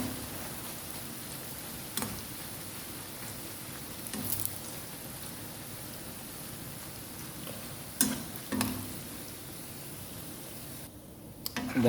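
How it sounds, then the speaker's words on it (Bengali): Pieces of cut bread fry in hot oil in a pan in a home kitchen, giving a steady close sizzle and crackle that carries on throughout, with a few utensil clicks and scrapes and no talking. "এখন তার উপর ভেজে নিব, অল্প অল্প করে দিচ্ছি।"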